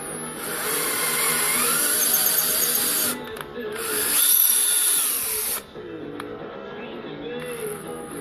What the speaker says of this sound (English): Set your drag very low on the drill if you're gonna do this.